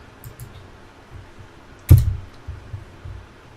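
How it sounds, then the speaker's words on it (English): A single sharp key press on a computer keyboard stands out as a loud click amid a few faint soft keystrokes and clicks. "So I'm going to do a Control V on my keyboard to copy that."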